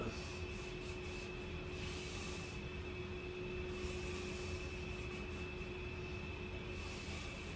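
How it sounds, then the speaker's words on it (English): A wood lathe spins with a steady whirring hum, a constant tone and a dense rubbing rasp throughout, close and continuous. "then I can turn on the lathe"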